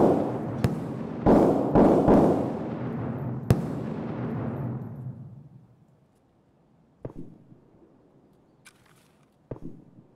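Gunfire in the shooter game Escape from Tarkov on the Interchange map: a burst of several loud, booming shots in the first few seconds with a long reverberant tail, then a few fainter, more distant single shots later.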